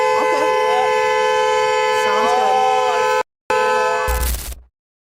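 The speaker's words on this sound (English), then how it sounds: "I'm allowed to honk my horn all I want." A loud, sustained car horn blares continuously for about three seconds, cuts out briefly, sounds again, then stops abruptly; faint voices underneath.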